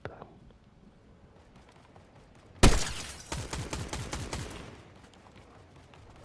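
Gunfire in the video game Fortnite: a sharp loud shot followed by a rapid burst of repeated firing that trails off, with quiet game ambience around it.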